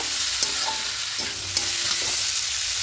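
Spice paste for an egg curry with cauliflower and potato frying gently in a pan, a dense steady sizzle close by, with a few light clicks of a stirring spoon.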